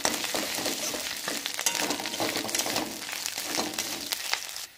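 Ginger paste stirred into vegetable dal in a pan, a steady close sizzle with scraping spoon strokes running throughout, no voices.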